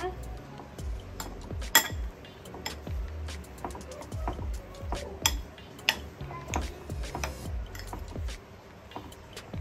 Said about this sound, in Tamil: இப்போ எல்லாத்தையும் நல்லா மிக்ஸ் பண்ணி விடுங்க.